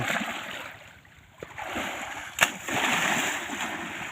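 An elderly woman bathes in water in the evening, splashing with soft, irregular sloshes and a couple of sharper splashes over a constant background hiss.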